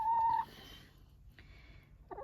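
A hen gives a short, sharp call at the start, followed by quiet background and a brief soft cluck near the end, heard close by and alone.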